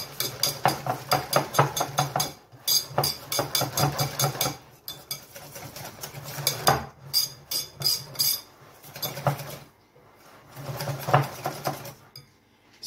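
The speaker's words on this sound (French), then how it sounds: "On va s'aider d'un fouet et on va faire notre mélange." A metal whisk rattles rapidly against a bowl as flour is worked into a mixture, coming in quick bursts of clinking strokes with short pauses between them.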